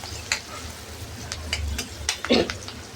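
Chilies and turmeric frying in oil in a home kitchen, a steady soft sizzle under a few clinks and scrapes of stirring, with one louder stir near the end.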